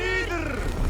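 A longship's sail drops in Assassin's Creed Valhalla with a drawn-out wooden creak and a groaning rigging sound, mixed with a shouted voice.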